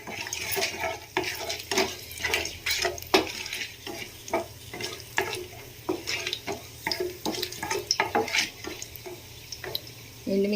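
Dried red chilli fries in hot oil with tempering spices for a potato curry. A soft, continuous sizzle carries frequent clinks and scrapes of stirring over a low hum, fairly quiet and close.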